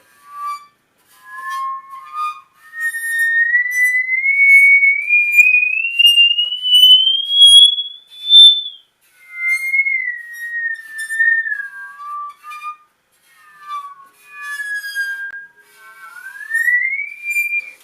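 A musical saw sings a sustained, wavering tone that glides slowly upward, breaks off, then returns lower with smooth bends and a faint metallic shimmer.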